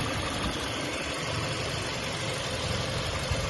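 A 2018 Hyundai Sonata with a 2.0-litre petrol engine idles steadily, a smooth, even hum recorded close with the hood open and no voices over it.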